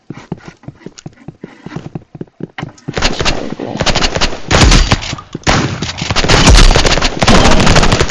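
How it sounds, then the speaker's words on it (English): Uzi and shotgun fire in a multiplayer shooter game, rapid bursts of loud, sharp gunshots that start sparse and grow into dense, continuous volleys in the second half. "I'm gonna get shotgun and Uzi."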